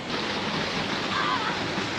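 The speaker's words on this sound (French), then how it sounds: "Ah, la cascade." A waterfall on a wadi route in Oman rushes as steady broadband white noise, loud and close, with no break across the clip.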